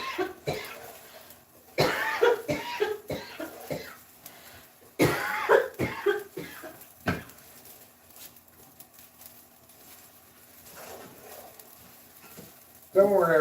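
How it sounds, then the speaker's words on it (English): A woman coughs in several sharp bursts, with clusters early and midway, against faint background sound and occasional talk while fried rice is being cooked. "She's just coughing"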